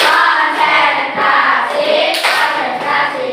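A primary school class performs a patterned concentration clap in a classroom, a dense burst of many hands clapping together close by, continuous and loud with slight rhythmic surges.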